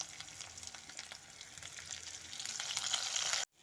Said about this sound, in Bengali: আলু আর আতপ চালটাকে একটু ভাজা ভাজা করে নিয়েছি